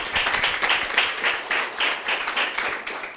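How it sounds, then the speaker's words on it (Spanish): Church congregation applauding together, a steady broadband clapping that keeps up evenly through the whole stretch at moderate loudness, with no talking over it. "Aplauda al Señor."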